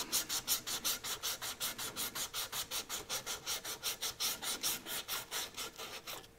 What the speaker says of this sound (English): So I'm using the pad of my thumb as a sanding block.